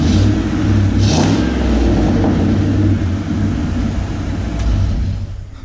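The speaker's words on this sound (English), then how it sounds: "Even when you rev it, there's nothing." 1994 Ford F150 truck engine revving, a steady loud low rumble that swells and eases with the throttle, close by and free of talk.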